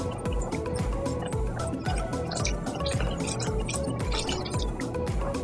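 Wet ingredients are mixed into a chocolate cake batter, producing continuous thick liquid squelching and sloshing with rhythmic stirring pulses, close and steady throughout.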